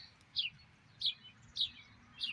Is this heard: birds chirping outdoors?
yes